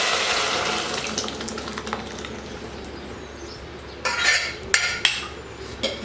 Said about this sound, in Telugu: ఇప్పుడు మనము సాంబార్ అయితే దీంట్లోకి ట్రాన్స్ఫర్ చేసేసుకుంటున్నాము